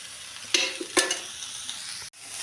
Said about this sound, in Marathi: कांदा आपण सर ब्राऊन रंगाचं होईपर्यंत परतवणार आहोत